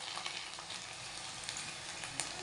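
Papad fries in hot oil with a continuous, even sizzle and light crackle, close and fairly quiet, with no talking.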